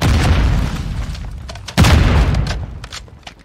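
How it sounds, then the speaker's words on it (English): A Semtex grenade detonates in a first-person shooter: a loud, close boom bursts out partway through, following a rumbling stretch of game noise with scattered cracks and distant gunfire. "Semtex incoming!"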